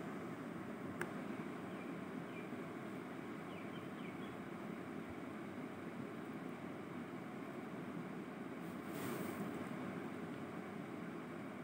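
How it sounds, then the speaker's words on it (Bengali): Mutton with spices sizzles steadily in hot oil in a pan, a quiet, even frying hiss that runs unbroken for the whole stretch with no voices over it. "পাঁচ থেকে ছয় মিনিট ভালো করে ভেজে নিতে হবে।"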